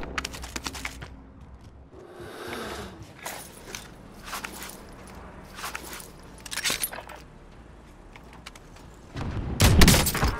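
Call of Duty: Modern Warfare gameplay with scattered gunshots and sharp sniper cracks in irregular bursts, ending in a heavier volley, over quiet game ambience and a few footsteps.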